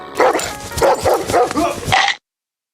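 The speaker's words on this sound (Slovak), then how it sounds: "Zlý pes." An angry dog barks loudly and close by in a quick run of harsh, overlapping barks lasting about two seconds, then stops abruptly.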